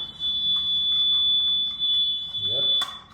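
A brand-new BRK smoke detector with a fault sounds a continuous high-pitched electronic beep tone that holds steadily at close range, with some handling noise and a brief thump near the end.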